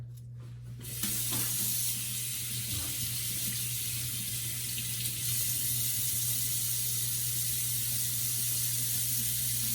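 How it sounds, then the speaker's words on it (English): Tap water runs steadily into a kitchen sink while lobster tails are rinsed, a close, continuous splashing hiss after a brief quiet start. "I'm just going to rinse them off in the sink"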